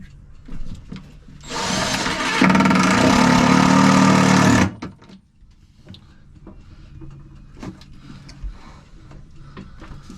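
A power drill bores into the fiberglass of a sailboat during a composting toilet install, a loud steady whine of about three seconds that rises in pitch midway, then stops, leaving quiet handling noises.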